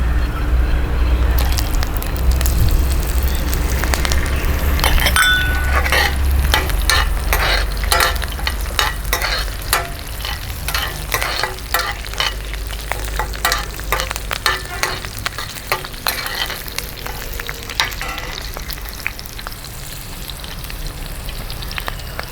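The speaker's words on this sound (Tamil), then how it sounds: "அந்த பட்டை லவங்கம் பொரிஞ்ச உடனே பச்சை மிளகாய் போடுங்க." Cinnamon, cloves and green chilies fry and splutter in hot oil for pepper chicken, a loud, dense crackling sizzle with rapid popping and occasional stirring scrapes, close up and with no voices.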